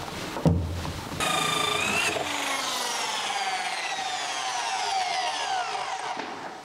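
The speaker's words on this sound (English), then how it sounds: "Let's see if we can drill a 6¼-inch hole." A hole saw cuts a 6¼-inch hole for an LED wafer can light above a kitchen sink, a loud, close grinding whine that rises and sweeps in pitch for several seconds after a sharp knock at the start.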